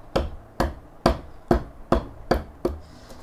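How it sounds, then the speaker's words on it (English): A wooden mallet strikes a carving chisel seven times in an even rhythm while a scoop spoon is carved. Each knock is sharp and close and rings briefly, with no talking. "I'm actually just gonna go ahead and mallet that down some more"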